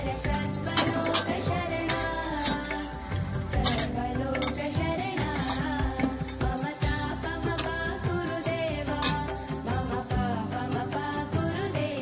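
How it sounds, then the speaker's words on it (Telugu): Dry fruits fry in a pan while a utensil clinks and scrapes against the metal, giving a busy run of close, sharp taps and rattles over a low sizzling bed. "సో అదే ప్యాన్లో వేసుకొని మనం ఫ్రై చేసుకుంటాం"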